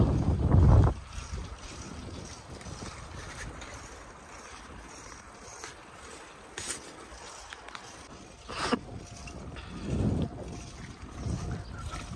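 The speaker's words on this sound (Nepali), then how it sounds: "हावा लाग्छ।" Wind gusts buffet the microphone in rumbling bursts on a cold morning bicycle ride in Fukuoka, Japan, with a faint rushing background between them.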